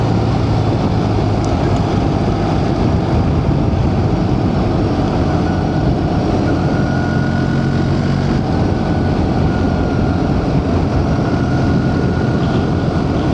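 BMW R1300 GS motorcycle ridden on a winter countryside highway, slowing down: a loud, continuous rumble of engine and wind with no distinct gear changes, without talking.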